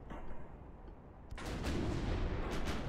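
Naval guns fire in Ultimate Admiral Dreadnoughts: after a quiet, low hum, a heavy broadband boom erupts and rolls on as a sustained rumbling roar to the end.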